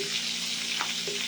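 Bicol-style adobo frying and being stirred in a pan, a dense, steady sizzle with faint scraping of the spoon, brief and close, no talk.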